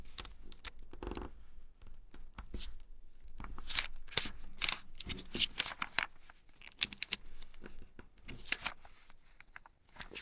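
A square sheet of paper is pinched and folded down, giving close, crisp crinkles and sharp rustling snaps in an irregular sequence.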